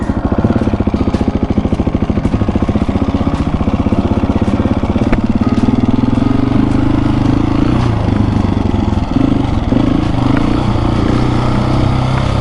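A KTM 701 Supermoto single-cylinder motorcycle engine runs steadily while being ridden off-road, a loud, continuous thumping drone with small shifts in revs throughout and no talking.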